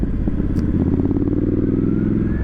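A lightweight motorcycle rides along a wet road, its engine droning loud and close, with a brief rising rev and faint tyre hiss.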